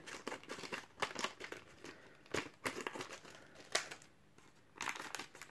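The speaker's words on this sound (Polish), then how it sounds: "Rozetniemy sobie oczywiście oba e, blisterki." Plastic blister packs of Panini Champions League 14/15 update cards being cut and torn open up close, with bursts of crinkling and crackling between short pauses.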